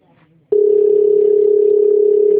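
A telephone gives a steady, loud, continuous call tone that starts abruptly after a brief moment of faint background sound and holds unbroken to the end.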